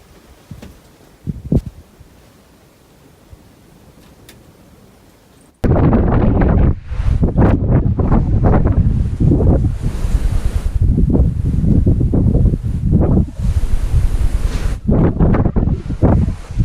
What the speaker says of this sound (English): So, it's pretty windy, but we're gonna try and make do.